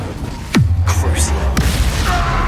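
Incendio fire spell in Hogwarts Legacy: a sudden booming whoosh of flame followed by a low sustained roar, with a second, fainter burst a second later, loud and up close.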